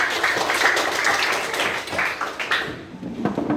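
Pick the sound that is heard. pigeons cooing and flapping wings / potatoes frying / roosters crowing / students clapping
students clapping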